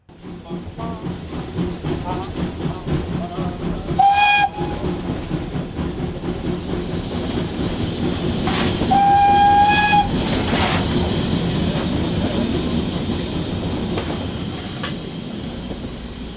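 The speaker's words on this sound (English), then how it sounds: "the sounds and smells of the engine evoke a sense of adventure" A steam locomotive chugs steadily past, its rumbling, rhythmic running growing louder toward the middle, while a whistle sounds briefly near the start and again in a longer blast around the midpoint.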